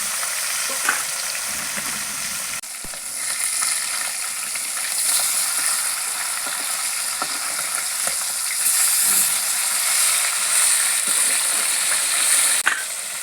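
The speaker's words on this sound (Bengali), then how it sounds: "ভালো করে ভেজে নেবো বন্ধুরা, লাল লাল করে।" Pieces of rohu fish fry in hot oil with a loud, continuous sizzle, close by, broken by scattered clicks and scraping from stirring or turning the pieces.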